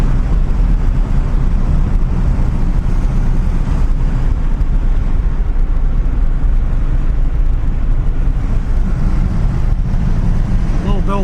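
A 1959 Chevrolet Bel Air cruises along a road, its engine and road noise forming a steady, loud low rumble throughout, with someone talking over it at times.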